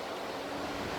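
Middle Fork river in California rushing past, a dense steady wash of flowing water close to the microphone with no voices.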